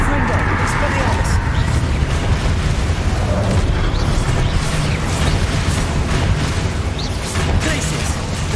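Confringo spell blasts from Hogwarts Legacy, a continuous loud booming, crackling barrage of explosions and impacts, with someone talking over the din throughout.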